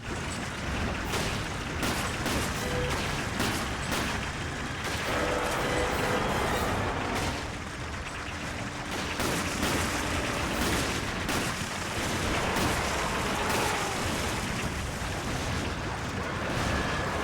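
Resident Evil 5 combat plays with a grenade blast and sustained gunfire, a dense, loud wash of bursts and booms that continues throughout.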